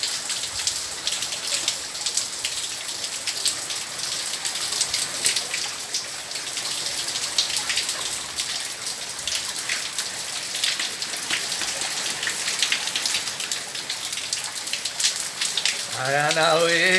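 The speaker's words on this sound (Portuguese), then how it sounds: "Vai pra chuva agora!" Steady rain hisses down onto a hard surface, dense and continuous throughout, with a parrot nearby outdoors; near the end a short rising voice-like sound cuts in over the rainfall.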